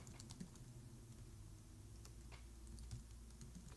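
Keys clack on a computer keyboard as a command is typed into the Windows command prompt, a quick run of close, light taps over a steady low hum.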